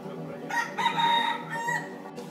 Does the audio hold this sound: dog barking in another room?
no